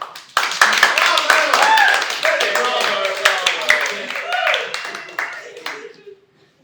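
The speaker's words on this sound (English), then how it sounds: "the others realize he is serious and join in the standing ovation" A standing ovation builds as more people join in, clapping hands layered with voices and cheering, swelling early and slowly fading out near the end.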